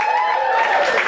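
A comedy club audience at Yuk Yuks Vancouver applauds a comedian, a steady wash of clapping heard under a host's amplified voice.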